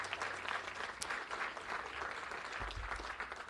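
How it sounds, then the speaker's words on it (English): A city council meeting audience breaks into sustained applause, a dense, steady crackle of many hands clapping with no one talking. "Let's give a round of applause to Community Build, our partner in this project as well."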